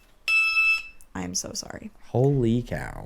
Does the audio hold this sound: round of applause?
no